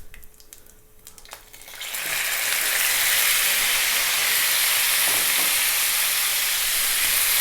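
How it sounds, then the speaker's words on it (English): Bone-in lamb meat dropped into hot oil infused with whole spices over high heat, sparking a sudden loud, steady sizzle and hiss that keeps going after a few faint clinks beforehand. "we're going to drop in our meat"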